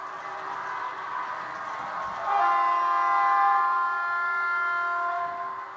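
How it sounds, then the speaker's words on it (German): Horns of a Roco ÖBB 1043 model electric locomotive with a ZIMO sound decoder, a loud sustained two-tone toot that steps higher midway and holds steady over faint running hum. "Die Hörner sind ziemlich laut."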